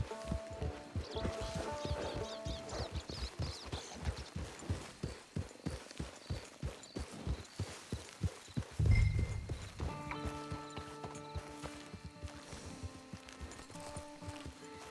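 Rhythmic clip-clop of horse hooves at a steady walking pace, close by, in the video game Red Dead Redemption 2, followed by a brief whinny and softer musical tones.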